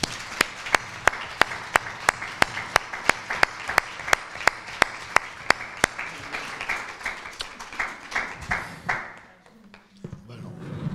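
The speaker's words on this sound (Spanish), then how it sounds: "me gustaría que le diéramos un fuerte aplauso" An audience applauds at the presentation of a cultural week event, with sharp, steady rhythmic claps standing out over a broad wash of clapping for several seconds before the applause thins and fades near the end.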